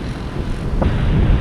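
Cool wind rushes steadily across the microphone at a high viewpoint overlooking Lumphini Park in Bangkok, a loud, constant broadband roar with a brief gust near the middle.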